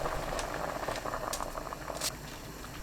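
Pot of Korean gochujang bean sprout stew with tofu simmering, a steady close bubbling and patter of boiling liquid, with faint brief clinks, no talk.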